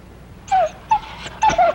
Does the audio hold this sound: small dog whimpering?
yes